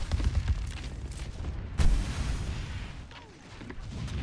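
Pharah's rocket barrage in a competitive Overwatch match, a sharp loud blast followed by a rumbling spread of booms and explosions amid game noise, with a caster talking over it.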